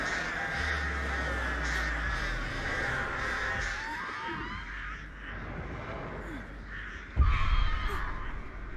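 Crows caw repeatedly inside a video game, harsh calls recurring through a steady game soundscape with a low throbbing layer, ending in a sudden louder burst.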